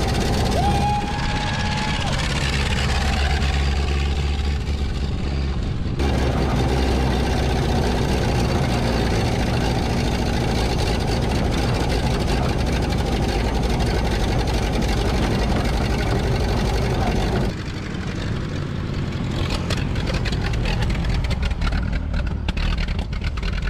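A 1931 Ford Model A barn-find engine with a stuck history runs steadily and loudly for over twenty seconds, a continuous low rumbling drone with rough idle texture that briefly dips near the end.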